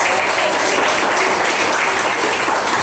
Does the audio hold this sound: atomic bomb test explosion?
no